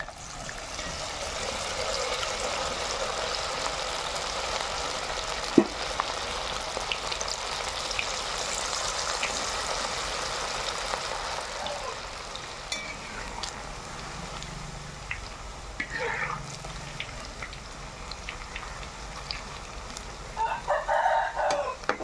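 Cauliflower pieces for Manchurian deep-fry in hot oil with a steady sizzling hiss and crackle that softens toward the end, with a rooster crowing and hens clucking faintly in the background.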